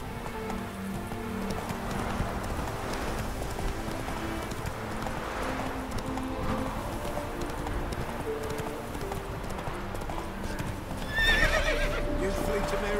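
Roach, the horse in The Witcher 3, gallops with a steady clip-clop of hooves beneath game music, and a sharp whinny breaks out near the end.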